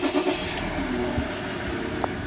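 A Ford Ranger 3.2L TDi diesel engine with a 6R80 automatic transmission runs close by, a steady low rumble with a brief rise early on and a couple of faint clicks.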